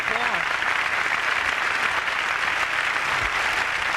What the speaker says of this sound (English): Give George a nice round of applause